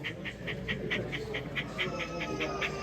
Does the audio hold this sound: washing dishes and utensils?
no